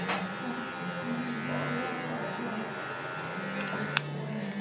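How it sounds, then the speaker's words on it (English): Electric hair clipper with a guard trimming a beard, a close, steady buzzing hum running throughout, with a brief click near the end. "Just do both sides while you're there with the same guard on the clipper."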